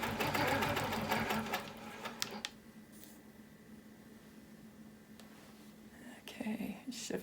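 Sewing machine stitching a wholecloth quilt, a dense rapid mechanical chatter that runs loud for the first couple of seconds. It then drops to a faint steady hum and rises again briefly near the end.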